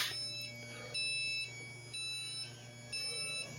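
A 2020 Legacy 34A motorhome's auto-leveling system gives repeated electronic beeps, about one per second in steady on-off bursts, over a constant low hum, close and clear with no talking.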